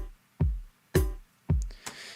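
A sparse drum pattern built in Bitwig's Grid modular environment: three punchy kick-like hits spaced evenly about half a second apart, the last followed by lighter, brighter percussive ticks, dry and up front with no voices.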